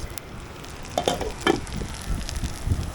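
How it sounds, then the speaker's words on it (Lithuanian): Steady sizzling of meat patties frying in a pan, with a few soft scraping and tapping sounds from a utensil, moderately close. "Dabar kepa kepsniukai."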